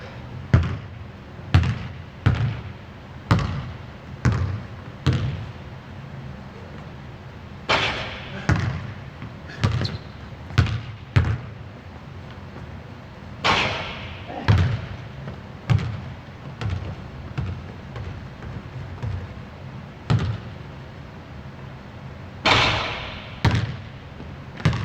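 A basketball is shot and bounces repeatedly on a court, a steady series of loud, close thuds spaced a second or two apart, with occasional clusters of quicker bounces and faint room noise between.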